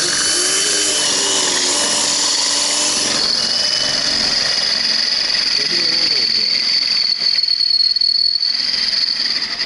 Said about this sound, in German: ist das ein Bohrer oder eine Reibale?